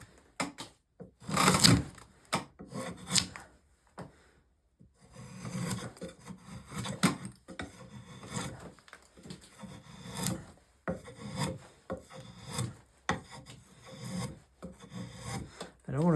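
Drawknife strokes shaving an octagonal wooden foot stool leg, a series of rasping, scraping pulls in uneven rhythm with short pauses between them, close and moderately quiet.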